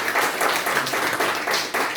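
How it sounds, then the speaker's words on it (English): A crowd applauds at the Steinbeck Festival in Limavady, a steady, dense wash of clapping that holds at an even level for the whole stretch with no voices over it. "So you can give him a wee round of applause there."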